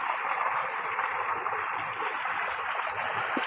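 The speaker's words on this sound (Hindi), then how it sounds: "ये पानी की स्पीड दोबारा तेज़ हो गई है" Water gushes steadily and loudly from a solar-powered tube well pump, a continuous close-up rushing roar without pause and with no talking.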